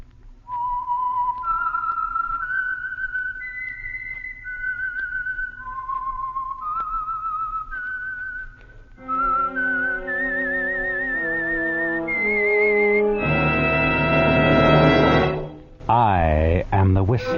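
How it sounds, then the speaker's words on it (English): Signature whistle of The Whistler radio show, a lone melodic whistled tune of rising and falling notes, then a louder orchestral swell carries the theme. "the signal to listen for is this whistle that identifies The Whistler."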